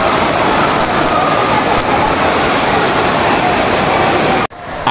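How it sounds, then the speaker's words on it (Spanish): A powerful waterfall at the Tonaltongo caves roars from inside the cave as a dense, steady wash of falling water, loud and near, cutting off abruptly at the very end. "Esta cascada cae a muy buena presión y realmente no se siente tan fuerte ya cuando estás adentro."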